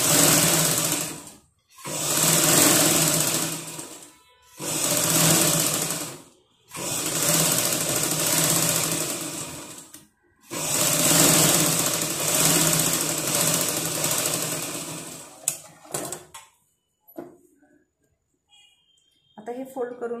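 A sewing machine runs long basting stitches along a folded blouse hem in five or six sustained bursts of steady whirring, separated by short pauses, before trailing off into a few faint clicks and handling sounds near the end.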